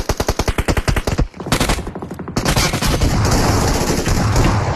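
Loud video game gunfire opens with a rapid string of evenly spaced shots, then breaks off, and a dense, sustained barrage of overlapping automatic fire and blasts follows, close and continuous.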